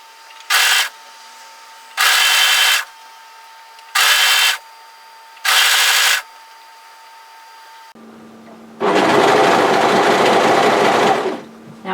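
A sewing machine stitching the center-back hood seam of a sweatshirt hoodie dress runs in four short, even bursts with brief pauses, then one longer, louder continuous run, close and clear.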